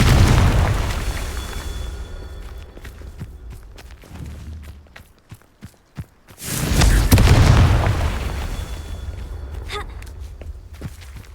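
Fire spell explosions in the video game Hogwarts Legacy: a loud booming burst that fades into crackle, a stretch of light footsteps and pops, then a second heavy blast swelling and dying away.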